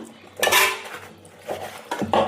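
Green chilli and tomato are worked together by hand in a metal pot, giving a few loud clanks and scrapes in short bursts with pauses between.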